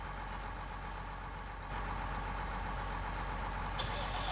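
A new tractor engine in Farming Simulator 19 runs with a steady, heavy diesel rumble and constant mechanical drone, growing slightly louder partway through, with a faint high beep near the end.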